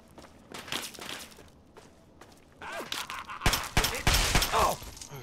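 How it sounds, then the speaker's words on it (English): Gunfire in the video game Fallout 3, with a few scattered shots early on and then a louder burst of rapid shots near the end, amid footsteps. "Oh shoot, I'm getting shot right away."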